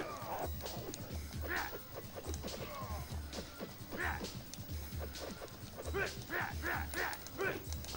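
Dog barking in a PlayStation fighting video game, several short barks and yips mixed into busy game action with hits, crashes and a voice.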